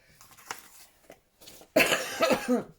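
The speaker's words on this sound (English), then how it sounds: "I'm still coughing" A few soft murmurs, then a loud burst of harsh coughing, several hacking coughs in quick succession, close by.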